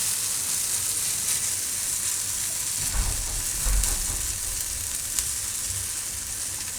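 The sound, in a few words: moong batter poured and sizzling on pan for uttapam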